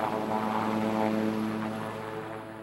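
Steady droning aircraft engine with a constant rotor-like hum, close and loud, holding even throughout.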